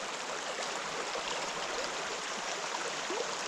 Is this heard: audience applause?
no